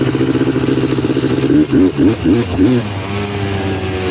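A Honda TRX330R ATV engine revving while riding, a close, loud, pulsing mid-range engine note that rises in several quick throttle blips before settling back, with a voice heard over it.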